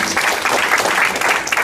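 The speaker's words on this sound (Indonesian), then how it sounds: "Tepuk tangan buat Tuhan Yesus." Brief burst of congregational clapping in an Indonesian church, a dense crowd applauding at close range for under two seconds.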